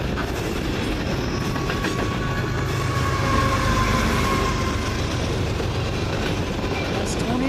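A CN freight train rolls steadily past at Ladysmith with a distributed power locomotive mid-train, a loud continuous rumble with wheel clatter and a faint horn-like tone running throughout.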